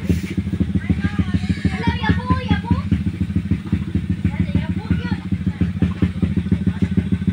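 An underbone motorcycle engine idles with a steady low rumble, while people talk over it close by.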